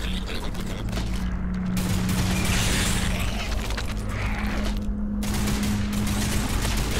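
Sustained rapid gunfire keeps up a loud, dense barrage of shots for the whole stretch, with a constant low hum underneath and brief dips in intensity.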